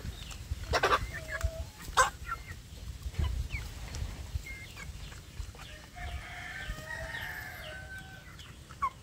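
Free-range village chicks feeding on rice bran in an outdoor run, scattered clucks and chirps with a crowing rooster, fowl calls near and far over a low background murmur.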